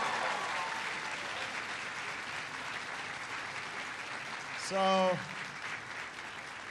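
An audience claps and cheers at a school speech, a steady wash of applause throughout, with a brief spoken word from a man near the end.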